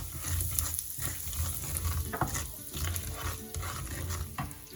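Hot oil sizzles steadily in a pan as asafoetida goes in while achari paneer is cooked, with a continuous close frying hiss and soft stirring scrapes throughout.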